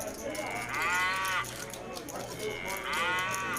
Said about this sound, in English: Definitely got to sound the cow on that one.